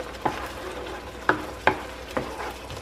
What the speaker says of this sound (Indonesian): Karena tomatnya saya blender ini, jadi agak nyiprat-nyiprat dikit.